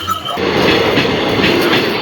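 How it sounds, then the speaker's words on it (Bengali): Train ride on the way to Tarkeshwar during the yatra, with a steady, loud rolling rumble of the carriage and faint rhythmic wheel clatter continuing throughout, no talk. "যাওয়ার পথে ট্রেনে চেপে গেছি"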